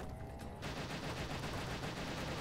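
Machine gun fire in the video game Kameo: Elements of Power: after a brief lull, a dense, continuous burst of rapid shots rattles loudly and evenly through the rest of the moment.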